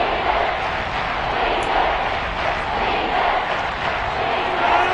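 Stadium crowd roar from the Madden 23 football video game, a steady, dense wash of cheering noise holding level throughout with no clear breaks, swelling slightly toward the end.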